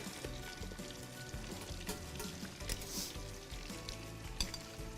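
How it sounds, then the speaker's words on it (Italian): Octopus frying in a pan to turn crisp gives a steady, close hiss of sizzling oil, broken by occasional stirring knocks and crackles. "Allora, una friggitina al polpo."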